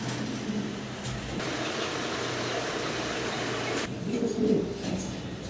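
Pigeons at a pigeon farm coo in low, repeated murmurs over a steady background hum, fairly close and moderately quiet, with no one speaking.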